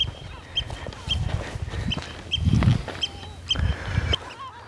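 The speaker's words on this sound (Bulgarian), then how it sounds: "Там поне се чуват някакви приятни птички от другия остров." Birds on a neighbouring Black Sea island give repeated short, high calls from a distance, over low rumbling wind and wave noise.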